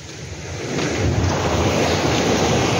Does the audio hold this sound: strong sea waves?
yes